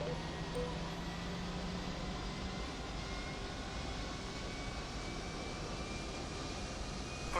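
An MD-11 airliner in a flight simulator game at pushback, with a steady, quiet jet engine whine and low rumble that carries on unchanged throughout and no talk.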